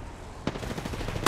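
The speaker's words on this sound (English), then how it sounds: "He's shooting at me." Gunfire in Apex Legends, a single sharp burst followed by a run of quieter rapid shots close by over steady game background noise.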